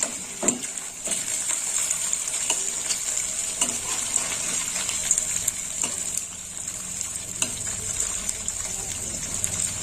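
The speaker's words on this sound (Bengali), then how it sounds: "এটা একটু ভাজা হবে।" Paneer cubes fry in oil in a pan, giving a steady sizzle throughout, broken by occasional sharp clicks and scrapes as the pieces are turned. The sound is close and continuous, with no talk.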